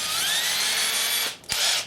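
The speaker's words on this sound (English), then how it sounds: "taking your pilot hole drill bit, drill into the frame" Power drill boring a pilot hole into a steel garage door frame, a close high-pitched whine that climbs in pitch, then stops briefly before a second short burst.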